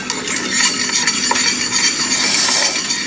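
Chicken for ayam pop cooks with a little coconut milk in a pan, giving a steady bubbling sizzle with soft stirring and utensil clinks against the pan throughout; no one talks.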